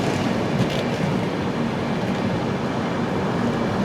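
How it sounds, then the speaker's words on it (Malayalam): An Indian Railways Diva–Sawantwadi Road Express hauled by a Kalyan WAP locomotive rumbles along with a steady, dense roar of wheels and carriage noise, loud and continuous. "ഇവിടെ നമ്മളെ കാത്ത് കല്യാണിൻ്റെ വാപ്പ് 74500 നിൽക്കുന്നു. ദിവാ സാവന്തവാടി റോഡ് എക്സ്പ്രസ് ആണ്."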